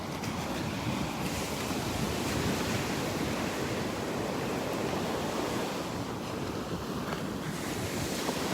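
Ocean surf washing onto Vanderbilt Beach at Delnor-Wiggins, a steady broadband rush mixed with wind buffeting the microphone, with no voices.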